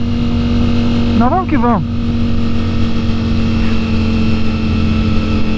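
A Ducati Streetfighter V4 S fitted with a full Akrapovic titanium exhaust idles loudly and steadily nearby, with a brief rising-and-falling engine blip partway through while someone speaks over the rumble.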